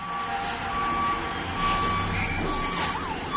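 A faint, wavering fire truck siren, heading to a factory fire, rises over outdoor traffic noise near the end, with steady electronic beeping in the background.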